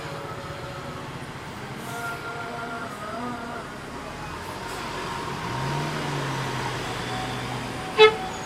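Gumarang Jaya bus with a new basuri horn, heard as several sustained melodic horn tones sliding in pitch over steady traffic and engine rumble at a bus station, moderately distant, ending with a short sharp knock.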